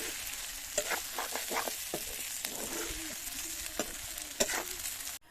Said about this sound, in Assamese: মাংস এয়া ফুটিবলৈ আৰম্ভ কৰিছে আৰু অলপ সময় পিছতে হৈ যাব